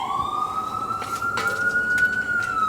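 An emergency vehicle siren wails outside during kitchen cooking, a rising and falling tone that sweeps slowly upward and holds, moderately loud and unaccompanied by talk.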